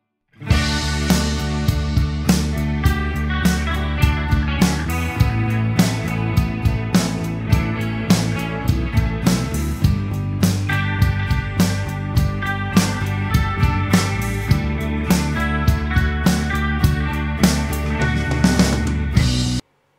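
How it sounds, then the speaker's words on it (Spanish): A full band plays steadily, with clean electric guitars recorded without any processing over driving drums and bass, the beat thumping regularly throughout. "Toda la banda completa con las guitarras en canal limpio sin ningún tipo de procesamiento"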